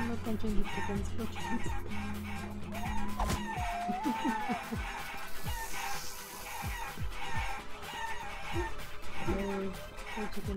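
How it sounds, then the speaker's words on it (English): Chickens cluck and a rooster crows in the Guacamelee video game, busy repeated clucks over steady game music and effects, fairly prominent in the mix. "I'm not punching the chickens for"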